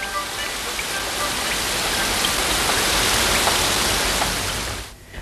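Steady rain falls across the whole clip as a dense, even hiss with scattered drop patter, loud and close, cutting off abruptly near the end with no voices.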